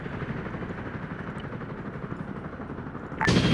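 A military helicopter in an Arma-style 1960s Argentina campaign game sends out a steady, loud, close rotor and engine roar that holds even throughout, then swells suddenly louder and brighter near the end.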